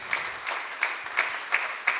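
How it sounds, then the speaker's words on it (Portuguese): A church congregation claps together in a steady rhythm in praise, about three claps per second, moderately loud in a reverberant room. "Aplauda ao Senhor Jesus"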